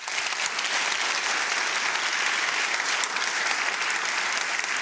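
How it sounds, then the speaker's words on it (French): Dense, loud applause from an audience fills a university evening showcase for student performers, a continuous even roar of clapping without a break. "Et ça, vraiment, ça s'applaudit bien fort."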